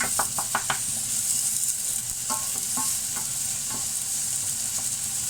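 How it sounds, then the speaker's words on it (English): Onions are stir-fried with noodles in a hot pan for a peanut butter chicken with garlic and chilli dish, a steady loud sizzle with a few quick scraping stirs at the start, close and without talk. "So this onion is going to be mixed in with the noodles."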